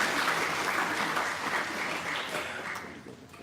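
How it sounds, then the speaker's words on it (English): A large audience applauds at a ceremony, steady dense clapping held at an even level throughout, thinning slightly toward the end. "please give him a big round of applause"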